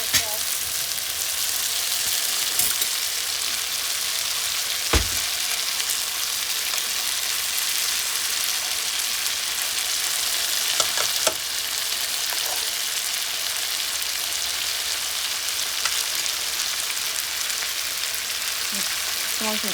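Kappa tapioca biryani sizzles and fries steadily in a pan, a loud continuous hiss running throughout with occasional clinks and scrapes of stirring.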